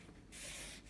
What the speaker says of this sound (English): just hold your ruler on your score lines and then just bend the card